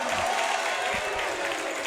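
Away Centennial fans at a high school basketball game against Franklin cheer and clap in a dense, steady crowd roar, with a commentator talking over it.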